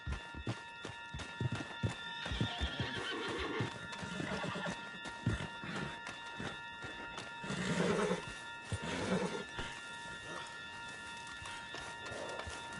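In the video game Red Dead Redemption 2, hooves clip-clop in a quick galloping rhythm while a horse neighs and whinnies a few times, set against a steady background hum; no talking.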